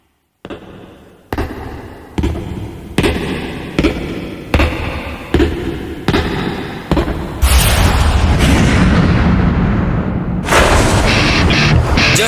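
Loud explosions go off behind the speaker in a One Punch Man scene, a series of about eight sharp booms at roughly even intervals, each decaying, followed by a sustained roaring blast and a final burst.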